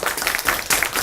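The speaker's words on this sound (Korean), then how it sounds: "우리 조현설 교수님에게 다시 한번 뜨거운 손뼉 부탁드립니다" A lecture-hall audience applauds a professor after a humanities talk, a dense burst of many hands clapping, close and fairly loud, filling the whole short moment.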